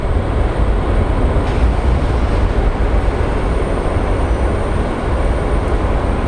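A Desert Gold airliner departs Sky Harbor International Airport in Phoenix, a loud, steady, broadband jet roar that holds without a break from start to finish.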